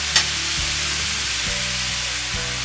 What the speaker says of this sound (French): Retirez la poêle du brûleur, y verser l'équivalent de 20 cl d'eau, remettre sur le feu